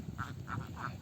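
Faint ducks quacking at a village duck farm, three short nasal quacks spaced evenly over a murky, low rumbling background.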